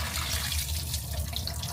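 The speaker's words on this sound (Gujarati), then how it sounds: "હવે બધું પાણી કાઢી નાખું." Water pours steadily from a pot of cooked carrots being drained for Gujarati carrot halwa at home, a continuous close splashing flow with no talking.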